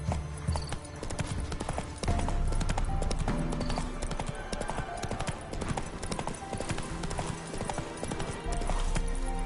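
Horse hooves clip-clop steadily at a quick gait in The Witcher III, loud and close over a busy layer of game music and ambience.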